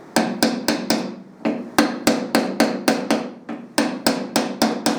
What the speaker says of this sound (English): just using the soft edge of the hammer on this lip, I'm just literally going to get it started.